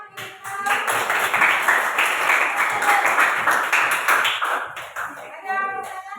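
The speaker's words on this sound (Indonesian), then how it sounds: "Tepuk tangan kita." A classroom of students bursts into applause, dense clapping that rises quickly and holds for several seconds before tapering off, followed by a second short burst, close and lively with some voices mixed in.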